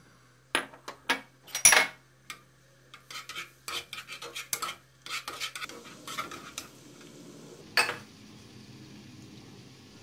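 A pan clinks and scrapes as oil and onions go in for sautéing, a close run of metallic knocks, rattles and scraping taps, then a low soft sizzle begins beneath a few later clanks.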